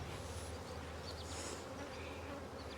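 Many honey bees hum at an open hive in a steady, close swarm-like drone, a soft continuous buzzing with no voices.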